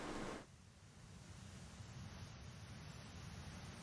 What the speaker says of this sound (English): all that remained was the sound of wind playing with the waves